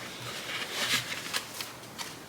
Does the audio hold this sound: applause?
no